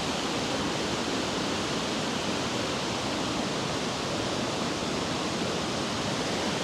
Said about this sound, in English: As the water comes down fast, it creates this foam on top